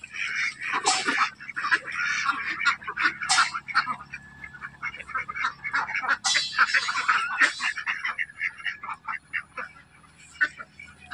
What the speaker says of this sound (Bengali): ক্যাম্বেল হাঁস